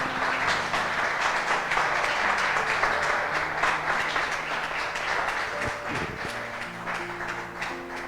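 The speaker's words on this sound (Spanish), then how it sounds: "Dale ese aplauso al Señor." Dense, continuous applause from a church congregation during a sermon, steady and fairly loud throughout, with faint background music tones beneath it.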